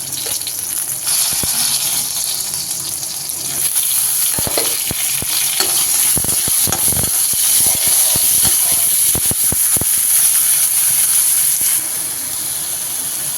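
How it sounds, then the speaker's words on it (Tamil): Chopped tomatoes sauté with onion, ginger and garlic in a pan for black urad dal chutney, a loud, continuous sizzling hiss broken midway by a run of sharp scraping stirs, with no voices. "இந்த ஸ்டேஜில் தக்காளியை சேர்த்து நல்லா வதக்கிக்கலாம்"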